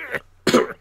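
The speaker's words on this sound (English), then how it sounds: "Cough, cough." Two short coughs close up, a small one followed by a louder, fuller one after a brief pause.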